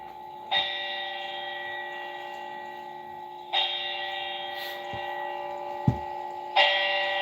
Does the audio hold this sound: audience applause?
no